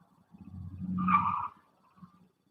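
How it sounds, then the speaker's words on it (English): A car speeds past outside at night, a faint engine rising to a brief roar and fading within about a second, followed by a soft tail of noise in a quiet room. "Y'all hear this person speeding in the car?"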